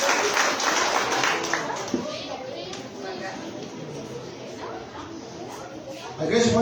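A church congregation claps and applauds during a Sunday worship service, a steady spattering of many hands filling the room, with voices speaking over it and a louder burst near the end.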